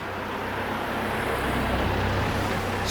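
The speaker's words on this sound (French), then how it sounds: "Une voiture blanche cette fois-ci." A white car goes by on a city street in Saint-Étienne, its steady road noise and engine rumble loud and close, rising slightly as it passes, with no voices.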